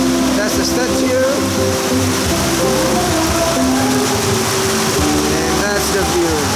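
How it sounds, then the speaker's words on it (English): Heavy rain falls over Donggongon in Penampang during an intense downpour that flooded a mall, a steady broadband wash throughout with traffic or engine hum beneath and a voice talking over it. "Rain, rain, rain in Donggongon today."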